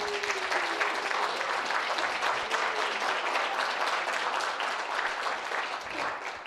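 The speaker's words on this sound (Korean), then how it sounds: "고영주 변호사님 다시 한번 큰 박수 부탁드리겠습니다" Audience applauding lawyer Ko Young-ju after his lecture at a Seoul National University forum, a dense, steady wash of many hands clapping that holds at full strength for several seconds before easing slightly at the end.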